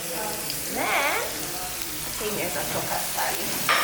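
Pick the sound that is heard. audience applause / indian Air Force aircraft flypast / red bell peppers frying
red bell peppers frying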